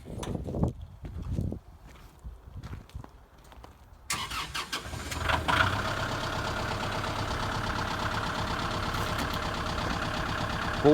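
A Kubota L4060 tractor being driven off a trailer: a few thuds and knocks, then the diesel engine settles into a steady, close idle hum that continues to the end.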